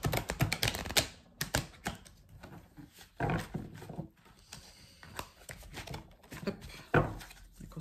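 Tarot cards from a Wandering Star deck being shuffled by hand, a fast flurry of crisp riffling clicks at the start, then irregular bursts of soft shuffling and card slaps, close and fairly quiet with no talk.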